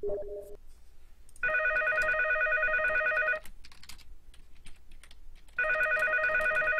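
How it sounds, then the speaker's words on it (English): A telephone rings in two long electronic bursts separated by a pause, with a short lower tone first and light keyboard typing between the rings. "Answer the phone, Ben."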